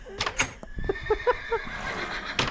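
Minecraft horse whinnies in a quick series of short pitched calls, several clipped neighs in a row, fairly close and moderately loud over light background sound with a couple of sharp clicks.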